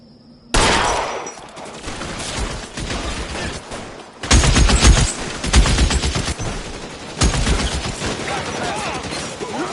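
Sustained gunfire in an L.A. Noire shootout: loud, dense bursts of rapid shots and fusillades with repeated volleys, heavy salvos building in waves over a background of battle noise.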